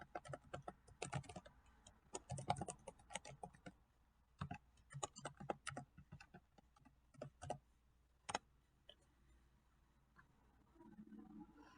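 Login details are typed on a computer keyboard in quick irregular clusters of soft, close key clicks with brief pauses between bursts and no talking.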